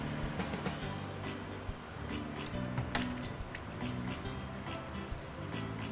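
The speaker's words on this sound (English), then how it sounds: "I don't mind adding a little bit water." Water trickles and drips into a pot of curry, a soft steady liquid pour with small splashes against a low background hum.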